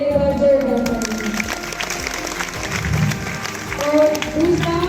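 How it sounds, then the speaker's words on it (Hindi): A school prayer assembly applauds a student who scored top marks, a broad wash of clapping hands filling the space steadily, with voices and shuffling noise mixed in throughout. "उस लड़की के लिए एक बार जोरदार ताली।"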